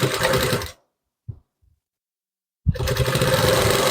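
A sewing machine stitches the neck of a size 34 blouse with a 'ப'-shaped neckline, running in a loud, steady whirr, pausing into near silence with a couple of faint clicks, then starting up again.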